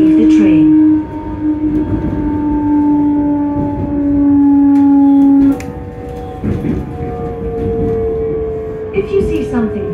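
An electric British train hums and whines close by as it arrives at a station, its tone sliding lower as it slows, with rumbling and clanks from the carriages.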